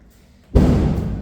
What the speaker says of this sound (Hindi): देखो अभी एक पटाखा फूटा है